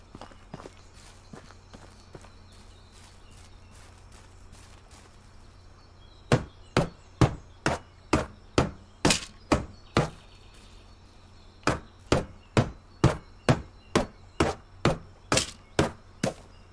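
Rhythmic wooden chopping thuds in the video game Medieval Dynasty, two steady runs of regular strikes, with quieter faint knocks earlier and a low ambient hum underneath.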